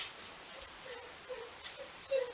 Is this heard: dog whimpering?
yes